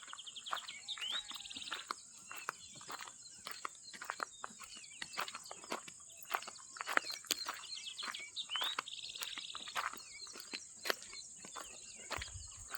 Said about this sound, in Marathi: चिमण्यांचा आवाज.